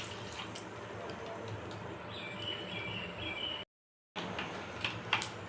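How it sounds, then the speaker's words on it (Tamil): Mustard seeds splutter in hot sesame oil in a pan, making a steady soft sizzle broken by a brief silence and a few sharp pops near the end. "கடுகு பொரிஞ்சு வந்துருச்சுங்க"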